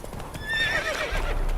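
A horse in The Witcher 3: Wild Hunt clip-clops at a gallop and lets out a clear, loud whinny that rises and falls over the hoofbeats, with no talking.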